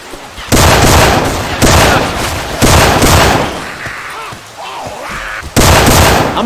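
Syphon Filter weapon sound effects modded into Left 4 Dead 2 gameplay: loud sustained bursts of gunfire in several long volleys, separated by brief lulls, close and dominant.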